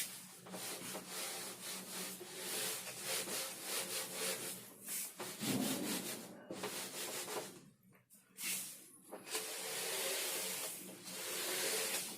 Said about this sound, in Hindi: इसको मैं रब कर रहा हूं